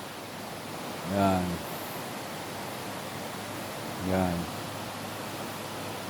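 Steady, broadband rushing of a deep mountain river heard from high above on the slope, continuous and moderately loud, with a voice speaking briefly twice over it.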